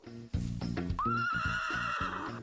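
At an equestrian stable where horses are prepared for the World Equestrian Games, a horse gives a loud, close, drawn-out whinny that rises and wavers, with a brief snort or step before it.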